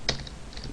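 A quick burst of typing on a computer keyboard as code is entered, with one crisp keystroke near the start followed by a few faint, soft taps close by.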